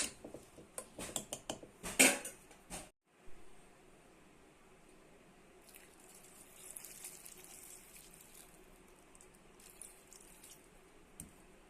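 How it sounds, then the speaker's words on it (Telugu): Water is poured into a mixed vegetable curry in a pressure cooker, splashing and clattering against the metal pot for a few seconds before the sound drops to a quiet, faint background. "చూడండి తగినన్ని నీళ్ళు పోసుకొని ఒకేసారి కలుపుకొని"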